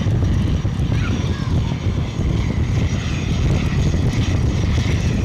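Airbus A380 jet engines running at Zurich airport in a strong crosswind, a loud continuous roar with wind buffeting, steady throughout and close.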